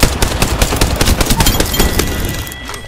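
Rapid automatic gunfire in Apex Legends, a loud dense burst of shots hammering steadily for nearly the whole moment before thinning out at the end, with no voices.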